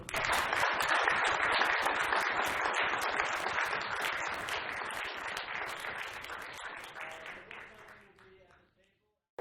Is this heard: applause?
yes